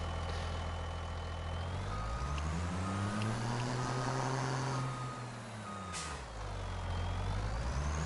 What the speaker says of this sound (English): we'll get our truck out of the shed down here.